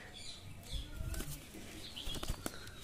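A pigeon with a twisted, tilted neck flaps its wings as it is released from a hand, giving a few close bursts of wingbeats with light rustling over a quiet outdoor background.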